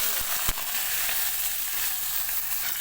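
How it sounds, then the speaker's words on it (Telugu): Chopped onions sizzle steadily in hot oil with tempering seeds for a village-style taro root curry, a close, continuous hiss broken by a couple of sharp stirring clicks near the start. "ఇక్కడైతే మనం మధ్య మధ్యలో కలుపుతూ ఉల్లిగడ్డని వేయించుకోవాలి"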